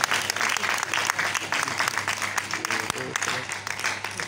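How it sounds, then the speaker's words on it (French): Sustained audience applause fills a choir concert hall, loud and steady throughout with dense clapping, while a voice speaks over it in places. "On applaudit Madame Taba, elle est là bien sûr"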